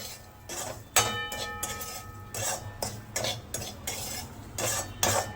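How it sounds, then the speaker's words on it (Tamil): Rava (semolina) dry-roasting in a pan for rava pongal, stirred with a metal spoon in repeated clinking scrapes against the pan over a faint sizzle. "நான் வந்து 2-3 மினிட்ஸ் இதை வறுத்துக்கிறேன்"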